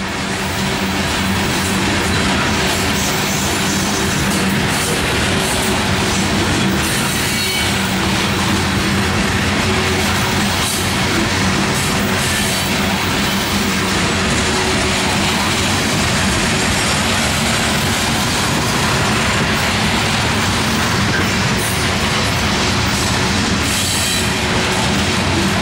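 A CSX freight train led by AC44 locomotives rolls along a siding, loud and close, with a continuous roar of wheels and rumbling cars throughout and faint squeals along the way.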